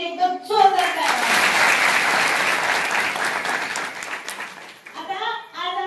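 Audience applause at a children's nutrition programme event, a dense burst of hand clapping that swells and holds for several seconds before thinning out, with voices speaking over the tail end.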